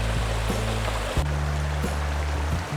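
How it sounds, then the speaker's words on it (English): Mountain creek rushing steadily at a trail crossing in the Pecos Wilderness, a continuous broad close-up water roar with no talk. "And here's a creek crossing."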